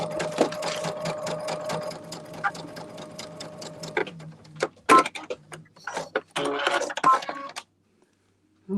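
A home sewing machine stitches a quilt block, its needle chattering in a fast, loud run, then pausing and giving a few short bursts and clicks before falling quiet at the end.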